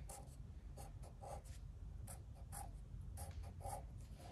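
Pen or pencil drawing straight lines on paper for a cupcake picture, soft scratchy strokes in short repeated bursts, faint and close with a steady low background hum.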